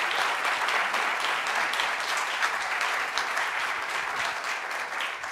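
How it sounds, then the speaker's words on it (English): Audience applause for a panel at a recovery event at the White House, a steady dense wash of clapping that holds at even loudness throughout without voices. "let's give them a round of applause"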